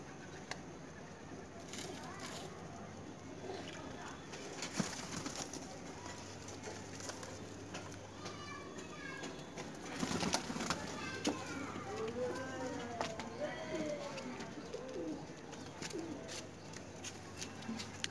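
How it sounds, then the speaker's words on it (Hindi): Punjabi pigeons coo softly and repeatedly at close range, with scattered rustling, flapping and faint voices in the background. "उमदा नस्ल के पंजाबी कबूतर"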